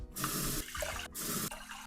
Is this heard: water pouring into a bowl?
yes